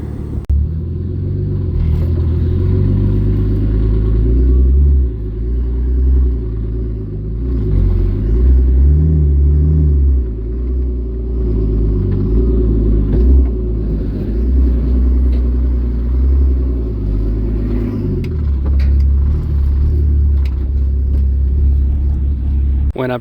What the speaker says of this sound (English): We're going to go ahead and get the car loaded up